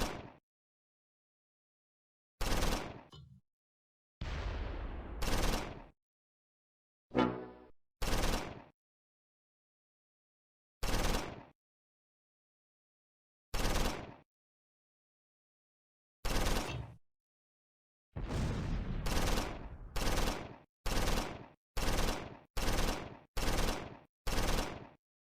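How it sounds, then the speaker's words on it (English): Medium machine gun in Close Combat 4, a Battle of the Bulge game, firing at German infantry near a road: sharp separated bursts with long silent gaps, then a quick run of evenly spaced bursts near the end, loud and close. "Gish, on the medium machine gun, orders his gunner to open fire on German infantry near the road"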